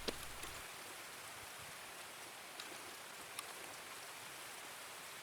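Faint, steady rain falls in Escape from Tarkov, a soft continuous patter with a few isolated drop ticks, no voices.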